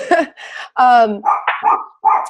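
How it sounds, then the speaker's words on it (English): Dogs barking close by in a home, several loud sharp barks and yips in an uneven burst. "my dogs start barking as soon as it's time to talk"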